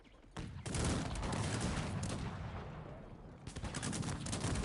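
Dense, continuous cannon and gunfire crackle in a steady barrage in the video game Cossacks 3, loud and close, easing slightly before intensifying again.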